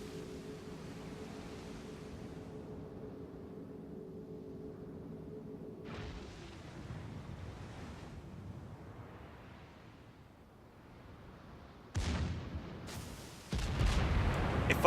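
Torpedoes strike the battleship Wyoming in a naval video game, heard as a muffled rumble that gives way to several sharp, loud explosion bursts near the end.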